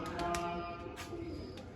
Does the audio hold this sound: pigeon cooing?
yes